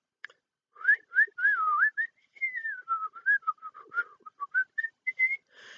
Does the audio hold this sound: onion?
no